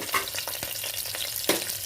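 Green chillies, cumin seeds and a bay leaf crackle and sizzle in hot oil, a close, busy frying hiss with sharp pops and bursts of stirring.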